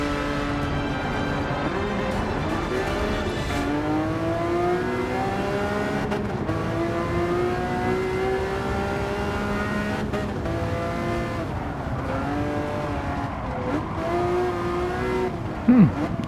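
A 2002 Enzo Ferrari V12 in Gran Turismo 7, engine droning and rising in pitch through gear changes, steady and loud with revs climbing and dropping, a short tire squeal near the end.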